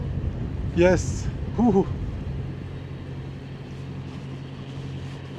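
Steady wind rushes over a sailing yacht approaching Gaios harbour on Paxos. A low hum persists underneath, and a voice briefly calls out twice early on.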